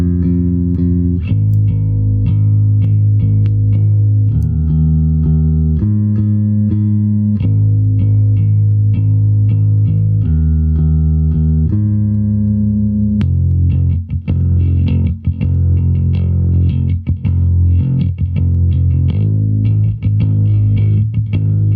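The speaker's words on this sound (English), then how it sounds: "I also like a lot of distortion on my bass, so make it sound super grindy" A bass guitar played through heavy, grindy distortion rings out in sustained, buzzy low notes and repeated riffs, loud and steady across the whole passage with no talking.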